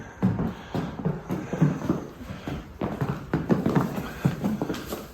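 Irregular hoof clip-clops from a horse, close and fairly loud, with shuffling steps and faint ambient noise throughout.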